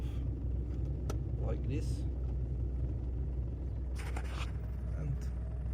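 A Volkswagen Lupo 3L diesel, running on 80% waste vegetable oil after a cold start, idles with a steady low rumble throughout. A person talks over the engine noise.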